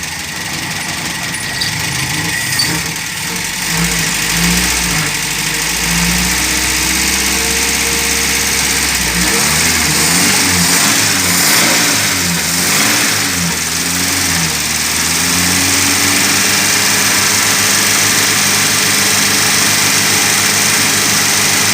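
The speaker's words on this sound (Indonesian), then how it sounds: "Suara mesinnya lebih mantap, lebih halus." A 1980 Mitsubishi Colt T120 pickup truck engine runs nearby at a steady idle, briefly rising and falling in a few wavering revs midway before settling back to an even hum.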